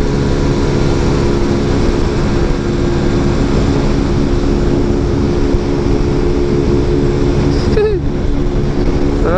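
A Bajaj Pulsar AS 150 motorcycle engine drones steadily at high revs under heavy wind rush, loud and close throughout, with a brief pitch dip near the end.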